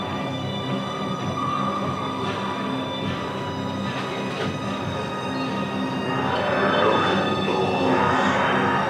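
A train rolling along the rails, its steady rumble with humming tones and faint wheel squeals building slightly louder toward the end, heard from on board with no speech.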